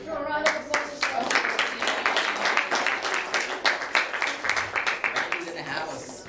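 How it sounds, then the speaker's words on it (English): A small audience claps at a talk on physical and mental fitness, a lively patter of distinct hand claps close by, with a few voices and a cheer mixed in. "For a round of applause as well."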